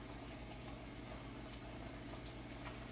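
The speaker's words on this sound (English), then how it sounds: "So the salad is boiling in the stove." A pot of water bubbles steadily on a stovetop in a home kitchen where plantain chips and cassava balls are being fried, a constant loud roil with no voices.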